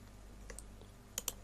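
Two quick, crisp mouse clicks near the end, with a fainter click or two earlier, set against a steady low hum while selecting a biome in WorldPainter on a computer.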